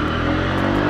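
A 2005 Honda Dio 50 automatic scooter, a silver Japanese-market model, pulls away with a steady, close buzzing engine drone that stays loud and even throughout, with no talking.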